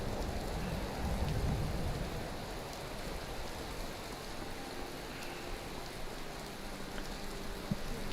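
Torrential rain drums down in Skyrim, a dense continuous hiss with a faint low rumble beneath it, holding steady without speech for several seconds.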